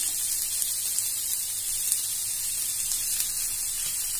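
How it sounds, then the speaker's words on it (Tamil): Masala sautés in a pan for mutton kulambu, a steady soft sizzle and hiss running evenly throughout with faint crackles and no talk. "இது அப்படியே வதங்கிக்கிட்டே இருக்கட்டும்"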